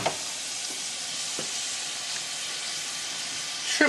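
Shrimp tossed in a hot pan fry with a loud, continuous sizzling hiss and occasional scraping knocks from the tossing, without talk.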